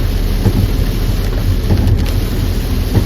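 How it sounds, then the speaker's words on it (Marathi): Heavy rain pours steadily onto an old road, a dense, loud wash of noise that runs without a break. "बेकारवाला पाऊस आहे इथे"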